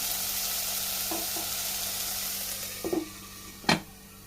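Onions and tomatoes sauté in a pan for a cauliflower curry, giving a steady close sizzle broken by a few brief knocks from stirring.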